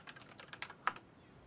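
Someone types briefly on a computer keyboard during an AI ladder tournament for the game StarCraft II. A quick run of light keystrokes sounds close and soft, with one sharper tap near the end and no talking.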